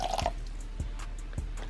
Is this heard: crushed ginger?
no